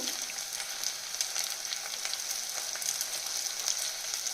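Vegetables sautéing in hot oil for a quick vegetable fried rice, giving a steady, close hiss and crackle of frying that holds even throughout, with no voices.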